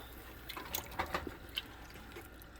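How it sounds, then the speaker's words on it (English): Water is added while fufu is stirred in a pot, a quiet run of small splashes, drips and wet slaps spread irregularly over a couple of seconds. "We add in the water as we go."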